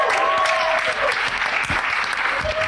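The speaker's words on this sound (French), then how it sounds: "Bonne main d'applaudissements pour Félix!" Loud, dense applause from a crowd fills the whole moment, steady clapping with a few whoops or voices rising briefly above it.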